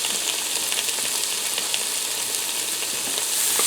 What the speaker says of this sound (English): And I'm going to allow this to saute around a little bit of that burger grease so the onions start to turn translucent